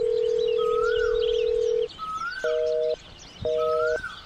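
A phone line hums with one long steady ringback tone, then gives two shorter double-pitched pulses with pauses between them, loud and close over faint chirping.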